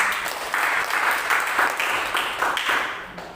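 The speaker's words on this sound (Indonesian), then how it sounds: "Tepuk tangan dulu buat Tuhan." A church congregation claps for God in a short, dense burst of applause that swells in waves and thins toward the end.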